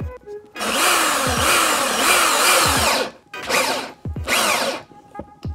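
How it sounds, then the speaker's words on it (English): A power drill whines loudly in long bursts, drilling into a desk, stopping and restarting several times, close by. "I'm just drilling shit in my desk."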